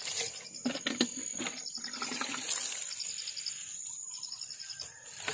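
Water pours from an improvised DIY watering can onto pechay plants in a vegetable plot, a soft, close splashing trickle in uneven bursts, fairly faint, with faint bird calls behind.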